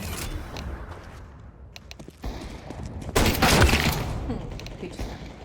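Gunfire in Counter-Strike 2: a loud burst of rapid shots near the middle, surrounded by quieter footsteps and mechanical clicks of in-game movement.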